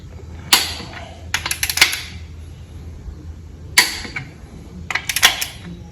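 A torque wrench clicks in sharp, close bursts while engine main bearing caps on a 12-valve engine are tightened, with several clusters of quick clicks separated by short pauses.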